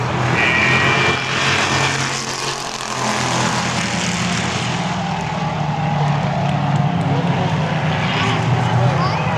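ASA-sanctioned stock cars roar around Yakima Speedway during a trophy dash, a loud, continuous engine drone filling the clip while a race announcer talks over it.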